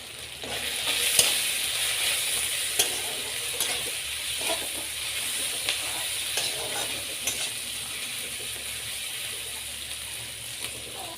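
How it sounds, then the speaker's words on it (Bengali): Spice paste sizzling steadily in a hot pan while being stirred for a Latha fish curry, with a continuous close frying hiss and occasional soft scrapes and taps of the spoon. "সব উপকরণগুলো ভালোভাবে নাড়তে থাকবো।"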